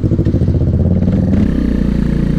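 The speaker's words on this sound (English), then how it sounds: "That's the first time I've ever heard my bike." A Yamaha R3 motorcycle fitted with an M4 exhaust revs loudly and close by, its engine pulsing and then dropping to a lower idle burble.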